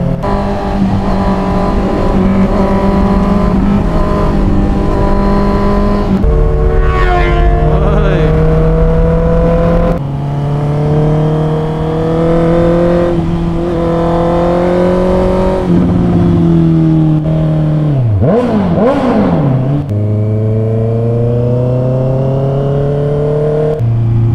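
A Honda CBR650R motorcycle's engine drones loud and close while riding, pitch rising through each gear then dropping at shifts, with several revving climbs and wind rush throughout.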